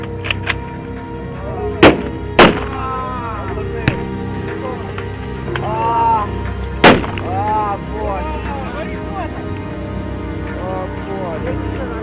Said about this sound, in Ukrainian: Вибухи, стрілянина, автоматні черги, бронетехніка все як у реальному бою.